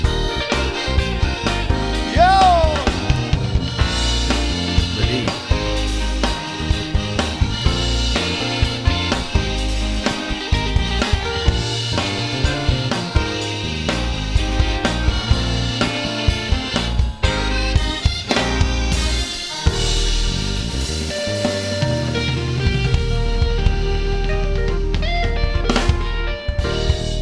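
A band featuring accordion plays upbeat music with steady drums, bass and melodic instruments, continuous and full throughout with no talking.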